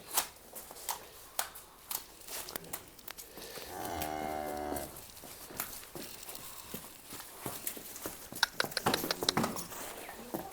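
A single drawn-out moo from Holstein Friesian cattle rises midway through, set against light rustling, clicking and shuffling from a nearby farmyard.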